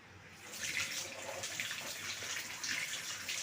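Tap water runs steadily while fruits and tomatoes are washed in a kitchen sink, a close, continuous hiss and splash with no talk over it.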